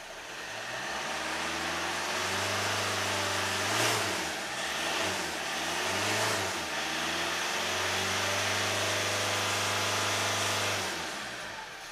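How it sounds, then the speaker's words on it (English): Toyota D4D diesel engine with a noisy turbocharger, running steadily close by, its engine rumble dipping and rising slightly under a constant whining, whooshing drone, with no talk. "got a noisy turbocharger."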